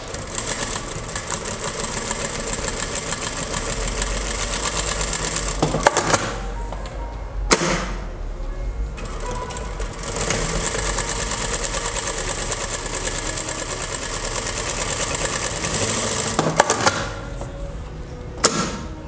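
Sewing machine fitted with a 0.75 straight-stitch foot stitching patchwork, running in a dense continuous mechanical whir that stops briefly twice and starts again, loud and close.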